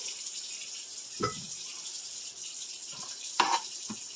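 Tap water runs into a sink while potatoes are washed, a steady hiss broken by a few knocks and splashes as they are handled.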